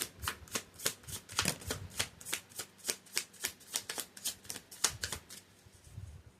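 A deck of playing cards is shuffled close up in a quick, even run of crisp flicking riffles, roughly three per second, fairly quiet and with no other sound.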